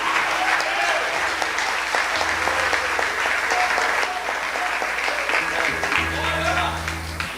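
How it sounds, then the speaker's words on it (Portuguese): A church congregation at a missions congress applauds in praise, dense continuous clapping for several seconds with voices and a low sustained musical tone underneath. "você vai aplaudir a Jesus Cristo dando glória"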